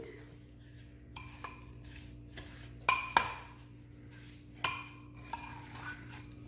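Sliced apples with cinnamon, brown sugar and lemon get stirred in a bowl, the spoon giving sparse, sharp clinks and scrapes against the bowl over a quiet, steady background hum.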